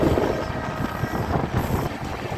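The new-coach Ratnachal Express rolls along the rails near Annavaram on the Visakhapatnam line, a steady broadband rumble with faint rhythmic clatter throughout and no voices.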